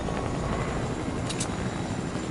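Helicopter rotor drone from a Fortnite-style Bio zone wars match, a steady broadband whir filling the whole stretch at moderate level with no talk over it.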